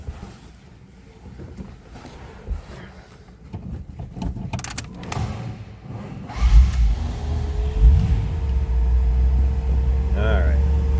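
A 1940 Cadillac Series 60 street rod engine cranks and fires, then settles into a steady low rumbling idle, close by, following some handling noises and clicks, with a faint whine near the end.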